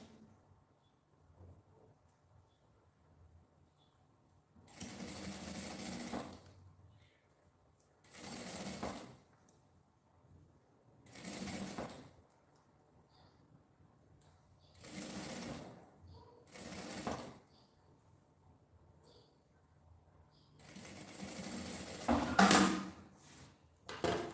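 Sewing machine stitching a luxury toiletry bag with a mesh pocket, short bursts of rapid whirring stitching separated by pauses, close and fairly quiet, with faint handling noises in between.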